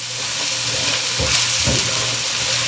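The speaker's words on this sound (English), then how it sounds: "Let these carrots, mushrooms, onions begin to soften through. Begin to release their waters out of them." Carrots, mushrooms and onions fry in a pan for a beef pot pie, giving a steady close sizzle with soft stirring scrapes and no talk.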